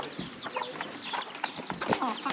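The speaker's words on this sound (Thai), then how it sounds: "แม่เพิ่นกำลังเกลือไก่อ่ะ ไก่หลาย ไก่น้อยนึง" A flock of village chickens clucking busily as they are fed rice, close and continuous with overlapping short calls and chatter.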